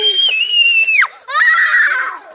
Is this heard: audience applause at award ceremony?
no